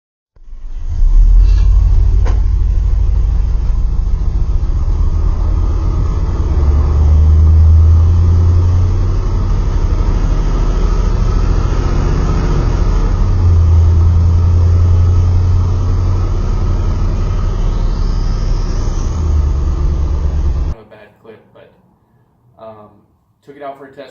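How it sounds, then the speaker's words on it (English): A car engine accelerates hard from a dead stop on a test drive after fuel system upgrades, a loud, steady in-cabin roar that swells twice over about twenty seconds before cutting off abruptly. "took it out for a test drive, romped it from a dead stop"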